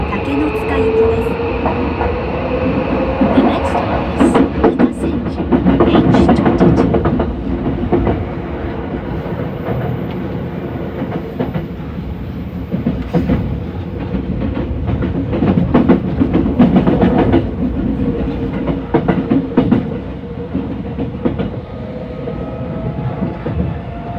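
A Tokyo Metro Hibiya Line subway train runs between Minami-Senju and Kita-Senju, its loud continuous rumble and rhythmic wheel clatter heard from inside the car, with a station announcement over it.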